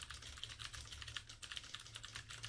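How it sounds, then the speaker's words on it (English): Rapid, clicky typewriter-style keystrokes from a browser extension's typing sound effect patter in an uneven, continuous stream, quiet and close, with no voices. "you could even have like little sound effects when you're typing, which is pretty fun and makes you feel like you're on a typewriter"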